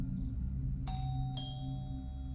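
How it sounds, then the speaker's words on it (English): Two bright chime tones ring in quick succession over a steady low hum, like a doorbell sounding indoors. "The killer rang the doorbell"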